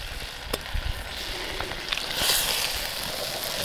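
Coffee is poured into venison stew in a cast iron Dutch oven over an open fire in a snowstorm, giving a steady close sizzle with faint clinks and a brief surge of hissing midway.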